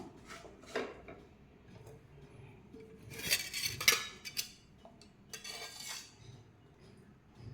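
Metal utensils scrape and clink against a pan of jaggery syrup with ghee in a few short bursts, with quiet gaps between the strokes.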